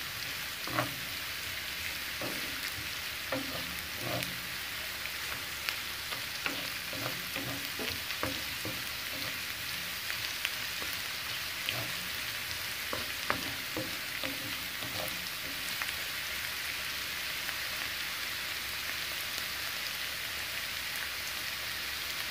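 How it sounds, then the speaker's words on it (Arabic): Chopped onion frying in hot oil until golden, a continuous crackling sizzle with scattered sharper pops, steady and close throughout with no voices. "البصلة لما اجي احمرها ما احمرهاش قوي، بتاخد اللون الذهبي بس"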